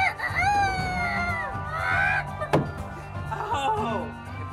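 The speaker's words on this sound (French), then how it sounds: "On est super content d'avoir des poules." Chickens cluck and cackle near a newly built henhouse, rising and falling calls in short bursts, with a sharp knock partway through and a faint background murmur.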